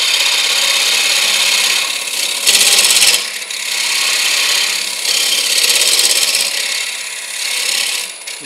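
A wood gouge cuts a green (freshly cut, wet) wooden bowl spinning on a lathe, producing a loud continuous rasping shear that swells and eases as the tool moves, with brief harsher bursts and no speech.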